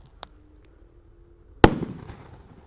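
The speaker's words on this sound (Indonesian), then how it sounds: "menyalakan mercon Romain Candle terbesar ditutup dengan botol" A large 1.9 Roman candle firework is set off under a bottle. A faint tick and a low hiss come first, then one sharp, loud bang close by that decays quickly into crackling.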